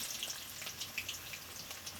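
Onions dropped into hot oil in a wok, a soft, fairly faint crackling sizzle with scattered pops, steady for two seconds with no one speaking.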